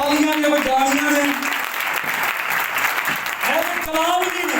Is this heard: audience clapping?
yes